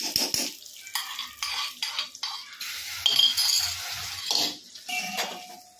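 A spoon scrapes and swirls through a pot as a browned mixture is stirred into jaggery payasam, with repeated close, rhythmic stirring strokes, metallic scrapes and a faint sizzle in between.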